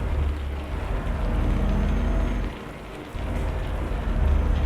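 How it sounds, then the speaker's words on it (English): Rain drizzling against a truck cab in Euro Truck Simulator 2 while driving in Italy, a steady close patter and wash of rain over a low engine rumble that dips briefly midway, then swells again. "a lot of it in the rain, so you get this nice ASMR rain drizzling against the cab"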